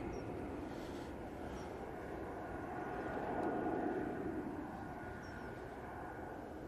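An Air France airplane departs Manchester Airport for Paris Charles de Gaulle, heard as a distant, steady jet engine roar that swells gently in the middle and stays faint throughout.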